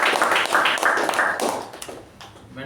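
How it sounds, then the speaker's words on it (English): A short round of clapping from a small group at a Toastmasters club meeting, uneven hand claps that thin out and trail off toward the end. "Can we give Madhu as well a good round of applause?"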